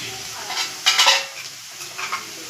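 Onions fried until reddish-brown for a fish head curry sizzle in a pan, with a few louder stirring swishes and a spoon clink rising over a steady close hiss, and no talking.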